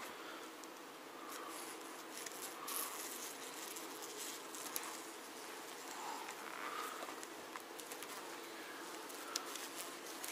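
A soft, continuous buzz of many honeybees in a hive, steady and diffuse with faint scattered ticks, no talking.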